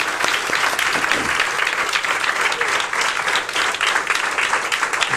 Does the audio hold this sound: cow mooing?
no